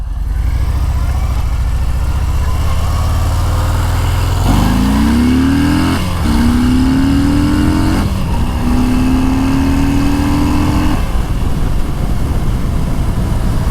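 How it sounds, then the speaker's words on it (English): A Harley-Davidson Fat Bob 114 motorcycle pulls away under hard acceleration, its loud engine note rising through several gear changes with brief dips between shifts, close and continuous with no talking. "I want to show you guys a little bit of what this bike can really do when you get on it."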